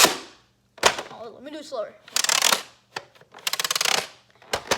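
Nerf Mega Twin Shock blaster being primed and cycled, giving sharp plastic clicks and rattling ratchet bursts, close and loud, with a brief spoken line near the start.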